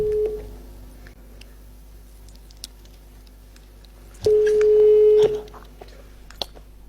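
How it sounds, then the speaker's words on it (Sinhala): Ringback tone from a phone call placed on a Sri Lankan line: a steady low electronic tone sounds briefly at the start, then again for about a second later, over faint background hiss. "මම කෝල් එකක් ගන්නවා"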